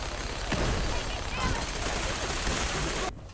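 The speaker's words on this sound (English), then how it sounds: "I like to shoot and shoot." Gunfire in Fallout 4 VR: a loud, dense, continuous stream of shots and blasts for about three seconds that cuts off abruptly near the end.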